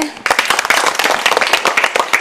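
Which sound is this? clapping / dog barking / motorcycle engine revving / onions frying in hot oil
clapping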